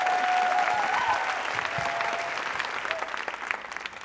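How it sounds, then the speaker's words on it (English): An audience at a Moth storytelling mainstage show in Los Angeles applauds a storyteller, with steady, dense clapping throughout that fades slightly toward the end. "Big round of applause for Aaron Naparstek."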